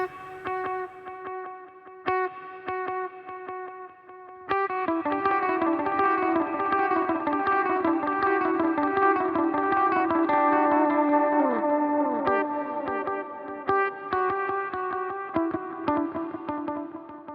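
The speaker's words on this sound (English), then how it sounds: "the second delay is a vintage digital delay set at the 600 milliseconds to give you that dotted eighth trail" Clean electric guitar on a Suhr runs through transistor tape and vintage digital delays set to a dotted-eighth trail. Plucked notes and chords repeat into dense, cascading echoes that build and sustain, playing alone without talk.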